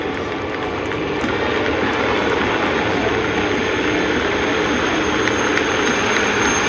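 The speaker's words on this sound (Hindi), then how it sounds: "अब से कुछ ही क्षणों में 665 और 669 आर्मी एविएशन के हेलीकॉप्टर्स आप पर आपके सम्मान में पुष्प वर्षा करेंगे।" Army aviation helicopters pass over a military parade in India, giving a steady, loud rotor and engine roar that fills the whole stretch with no break or fade.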